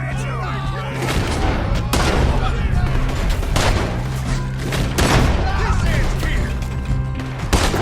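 Gunfire during a shootout in the Red Dead Redemption 2 video game, with repeated loud shots and booms scattered through a busy, chaotic soundscape, plus some crashing sounds and voices shouting over it.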